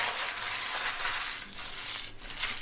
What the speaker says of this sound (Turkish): biraz ellerinizi ıslatıp önden yağlı kağıdı o şekilde buruşturmakta fayda var